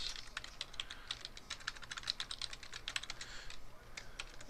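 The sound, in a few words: typing an FTP address on a computer keyboard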